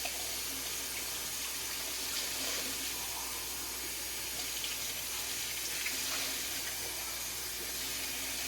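Hot tap water runs steadily into a sink during washing of baby bottles, a constant soft hiss and splash at moderate distance with no talking.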